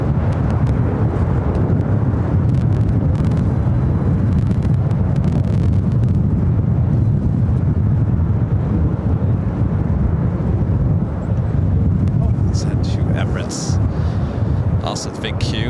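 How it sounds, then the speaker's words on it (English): Jet airliner taking off from runway 7 right on the south side of LAX during extreme winds, a loud continuous low roar with heavy wind buffeting the microphone throughout. "That should be a south side takeoff on 7 right."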